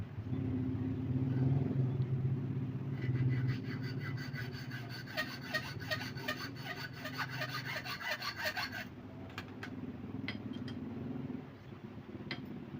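A steady rasping saw cuts back and forth through the metal inner tube of a motorcycle shock absorber, rhythmic strokes over a low background rumble, then stopping and leaving a quieter hum.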